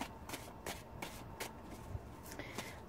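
A deck of tarot cards being shuffled close by, with soft riffling snaps that come back roughly every half second. The handling is quiet and steady and there is no talk.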